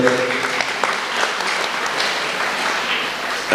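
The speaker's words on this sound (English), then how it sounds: "You people should join me with a nice round of applause, with a clapping for..." A conference hall audience at a national science and technology conference for start-ups gives a round of applause, a dense, even wash of clapping that carries steadily throughout.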